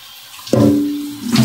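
Tap water runs and splashes into a large cooking pot during washing, a sudden loud gush that starts abruptly and keeps flowing steadily, with a brief rise in spray near the end.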